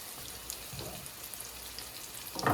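French toast made with a thick banana batter fries in a lightly oiled pan, giving a faint, steady low crackle and sizzle with a few soft pops and a louder burst of spatter near the end.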